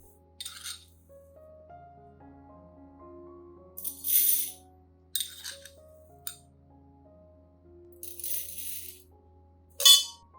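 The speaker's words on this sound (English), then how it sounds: "I'll take about 2 tablespoons of rice like this, then put it into a clean glass cup." Dry rice grains trickle and rattle into a clean glass cup in several separate short pours, crisp close clinks and patters between quiet pauses.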